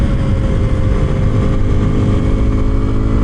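A 2026 Kawasaki KLX 230 Sherpa S motorcycle, still in its pre-break-in period, runs with a steady, close, low engine rumble that holds even throughout, with no talking.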